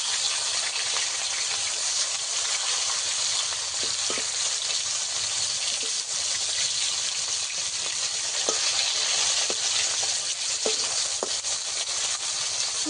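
Small dhela fish fry in hot oil in a pan for a mustard and poppy seed recipe. The sizzle is steady and close, with occasional sharp pops and crackles throughout.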